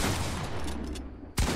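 Gunfire crackles in the video game Fortnite, a dense, steady rattle of shots for over a second that cuts out abruptly, then a sharp burst at the end.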